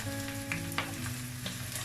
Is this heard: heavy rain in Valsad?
no